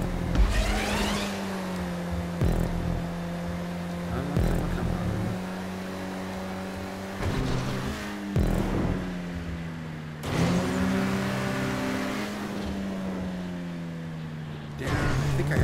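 A car in GTA 5 Online drives steadily with a sustained engine drone that shifts pitch several times as it accelerates and eases off, with brief interruptions, heard from a first-person driving view.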